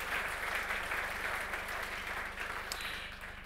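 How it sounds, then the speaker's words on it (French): Steady audience applause for award winners at a national trophy ceremony, heard fairly faint and distant, continuous dense clapping that thins slightly toward the end. "Bravo, on vous applaudit."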